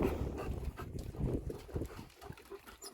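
A dog pants heavily and rhythmically close by, with quick breathy huffs and some snuffling.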